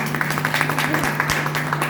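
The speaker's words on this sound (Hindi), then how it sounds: "जो मेरे गुरु हैं मिस्टर देवाचरण साहू सर, उनके लिए सम्मान में ताली चाहती हूँ।" An indoor audience at a ceremony claps in a dense, steady patter of applause with a constant low electrical hum under it.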